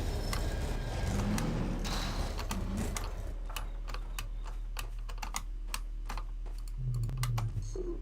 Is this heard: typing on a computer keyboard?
yes